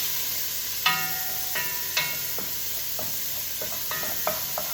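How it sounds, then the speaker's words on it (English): Bacon lardons cooking in a pot that held beef, a soft hiss under repeated sharp spoon-on-pot clinks and scrapes as they are stirred, no talk. "straight into the pot where the beef was cooking with a load of lardons of bacon"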